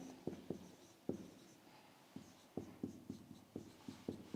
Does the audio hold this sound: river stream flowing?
no